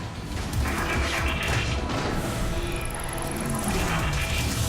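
Explosions and crashing impacts from the Transformers: Fall of Cybertron video game, a dense, loud, continuous barrage of booming blasts and metallic smashes lasting several seconds with no pauses.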